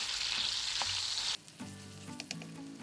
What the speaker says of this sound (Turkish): Tereyağımız eridikten sonra 1 yemek kaşığı domates salçası ve de yarım yemek kaşığı biber salçası ekliyorum ve bu şekilde